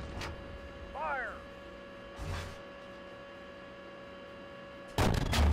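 A tank's main gun fires once near the end in the Steel Beasts simulator, a sudden loud blast after a quiet, humming stretch with a few faint thumps.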